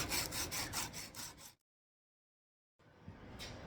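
Rhythmic hand sanding of a Damascus steel Scandi knife blade with 80-grit paper, rapid back-and-forth rasping strokes, then a brief silence before the scraping resumes.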